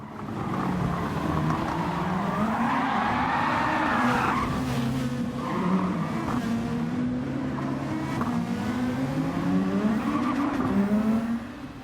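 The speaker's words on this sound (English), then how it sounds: "This is the same incident now with the car that spun out of the corner." Racing car in a video game spinning out of a corner during the first lap of an online daily race, tyres skidding and squealing over a continuous engine roar, loud and sustained throughout.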